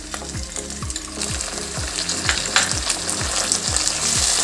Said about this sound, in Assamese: নহৰুৰ গোন্ধটো নোযোৱালৈকে ভালদৰে ফ্ৰাই কৰি ল'ম।